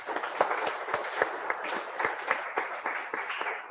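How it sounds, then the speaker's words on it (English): Audience applause at a school maths workshop event, a scattered round of clapping from a modest crowd with distinct individual claps standing out, fairly steady for a few seconds. "How's a round of applause there?"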